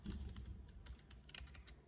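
Quick, soft tapping of keys on a computer keyboard as text is entered for a flyer design, a steady close clatter with no talking.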